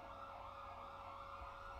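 A steady, wailing ambulance siren from the video game GTA 5 plays continuously at a moderate distance, with a low rumble of traffic underneath and no voices.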